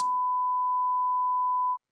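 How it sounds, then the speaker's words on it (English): A pure 1 kHz sine test tone from a signal generator in Cubase, a single steady beep held for under two seconds that stops abruptly. "I have a test generator or a signal generator going at 1 kilohertz"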